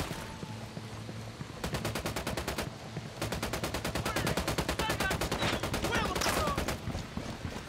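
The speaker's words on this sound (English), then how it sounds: "Opening fire." Rapid automatic gunfire in Ghost Recon Wildlands, with a squad assaulting a resort, rattling off in long, dense bursts after a short opening volley, loud and close, with brief radio-style talk underneath at the start.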